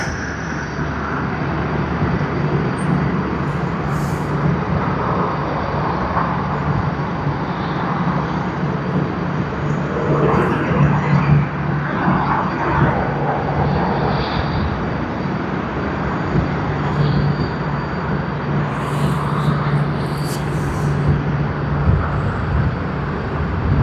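A Latam Airlines airliner at Sydney Airport gives off a loud, steady engine roar with a broad rumble that holds for more than twenty seconds, some distance away, under a continuous outdoor background hum.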